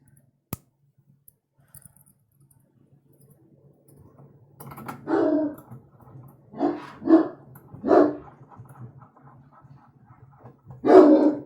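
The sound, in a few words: dog barking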